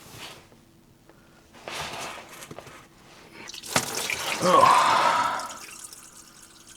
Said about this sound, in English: I guess I'm gonna get under here and drain that diesel out now.